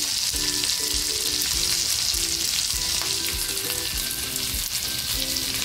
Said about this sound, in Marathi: बघा किती छान फ्राय होते